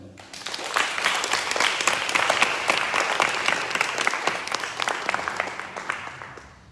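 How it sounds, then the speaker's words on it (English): At an evening program of a Bhakti Yoga retreat in Belgium, an audience claps for the retreat helpers; the applause swells quickly, stays full and lively for several seconds, then tapers off. "So big clap for them."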